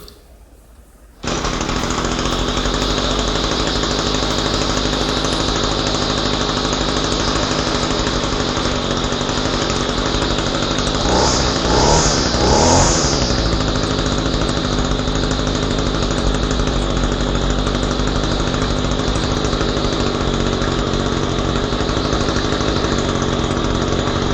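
After a second of near silence, an Echo GT-225 two-stroke string trimmer with a HIPA carburetor kit, on full choke and suspected of a bad clutch, starts indoors. It keeps running at a loud, steady, buzzing drone.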